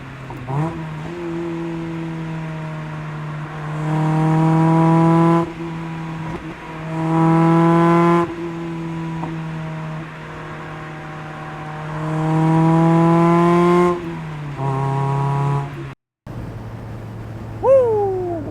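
A Mazda NB Miata engine revs hard through several gear changes, loud and close, pitch climbing with each pull and dropping briefly between shifts.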